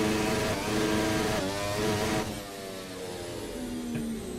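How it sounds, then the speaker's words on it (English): Formula Alpha race car in a sim racing game, its engine bouncing off the rev limiter in a steady buzzing stutter at high revs, then easing to a lower drone, loud and alone. "I love the limiter sound of this car."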